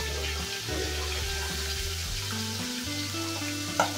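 Bele fish frying in hot oil in a pan, a loud, continuous close sizzle and crackle with a low hum underneath and a brief clatter near the end.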